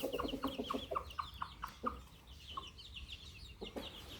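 Burmese-line chickens clucking nearby in short rapid series, soft repeated clucks and higher peeps over a quiet outdoor background.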